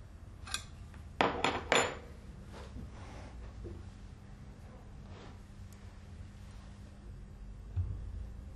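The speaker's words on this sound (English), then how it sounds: "Tighten with a spanner." A spanner tightens a fitting, heard as a few quick, sharp metallic clicks and clanks early on, then only a faint steady background hum.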